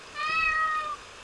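A single short, clear cat meow from the horror game Ao Oni, close and distinct over a quiet background, lasting under a second with no speech.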